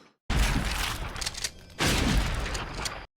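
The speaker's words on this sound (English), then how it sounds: "Out comes the shotgun." Shotgun fire in a TV show scene, two loud blasts in quick succession, each a dense burst of noise that lingers about a second, heard close and without talk.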